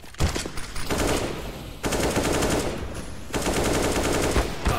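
Counter-Strike: Global Offensive gunfire, three long bursts of rapid automatic shots separated by short pauses, loud and dense without voices.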